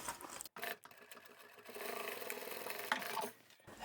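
A domestic sewing machine runs in short bursts while stitching the side seam of a handbag, its soft mechanical whirr stopping and starting quietly, with brief pauses and a back stitch before it halts.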